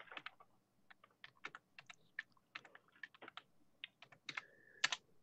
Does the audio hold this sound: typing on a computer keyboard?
yes